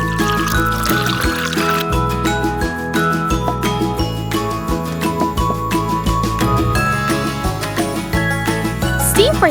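Water poured into a miniature cooking pot while preparing tiny octopus, a steady trickling pour set under bright, continuous music.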